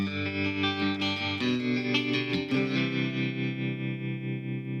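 Sustained electric guitar chord with a warm, pulsing tremolo wobble, ringing continuously with a new strum partway through, no voices.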